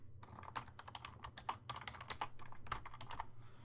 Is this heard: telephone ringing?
no